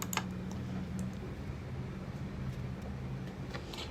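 Java code is being typed on a computer keyboard, with a light, irregular patter of key clicks over a steady background hum.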